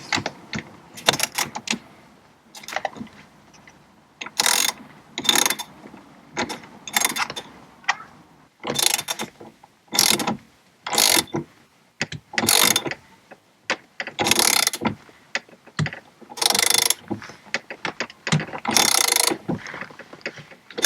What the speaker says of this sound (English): Get that here on our socket wrench.